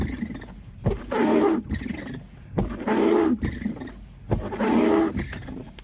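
A worn windshield wiper on a 2014 Honda City drags across glass in three rough, juddering passes, each a loud chattering burst separated by brief quiet gaps.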